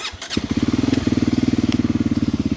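A motorcycle on a muddy track revs up and pulls away, its engine loud and close with a steady pulsing beat that starts after a brief low rumble.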